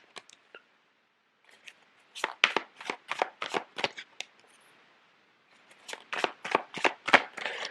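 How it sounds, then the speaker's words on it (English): Tarot cards are shuffled and laid out for a Scorpio reading: two runs of rapid, crisp riffle snaps separated by a short pause, close and fairly loud, with no speech. "So let me lay out the cards."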